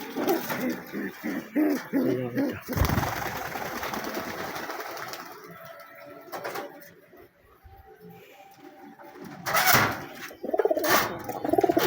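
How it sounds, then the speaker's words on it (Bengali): Pigeons coo in low, throaty bursts close by, with a brief flurry of wing flaps and rustling in the middle, and sharp clattery noises in between against a quiet background. "আজকে কবুতরগুলো উড়বো, তা আপনাদের দেখাবো।"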